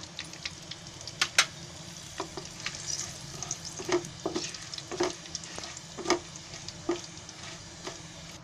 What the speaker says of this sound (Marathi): तो असं त्याच्यामध्ये तेलामध्ये टाकायचा फोडणीला.